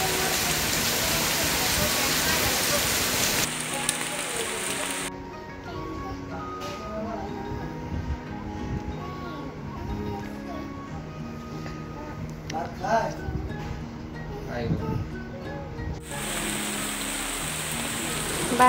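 Heavy monsoon rain in Bangladesh hisses loudly at the start and end, easing into a quieter stretch in the middle where voices and nearby clatter come through.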